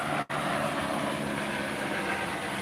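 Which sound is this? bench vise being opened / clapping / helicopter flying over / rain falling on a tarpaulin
helicopter flying over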